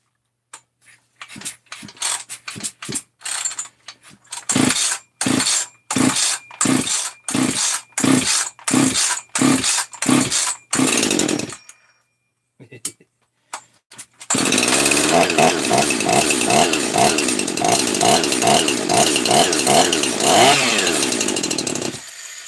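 A 350 dirt bike engine with choke on and decompression used: a run of loud, evenly spaced kick-start bursts, a brief pause, then the engine catches and runs loudly and steadily, revving close by.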